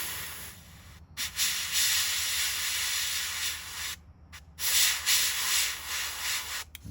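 An airbrush sprays black paint through a small stencil onto a fishing lure, a steady close hiss that runs in long bursts broken by a few brief pauses, with no voices.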